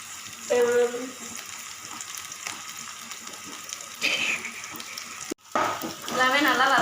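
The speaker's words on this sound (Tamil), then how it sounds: "கடுகு போட்டுருவோம்." Mustard seeds crackling and sizzling in hot oil in a home kitchen while a wheat vegetable pancake is being made, a steady fry with bursts of popping and a brief clatter near the end.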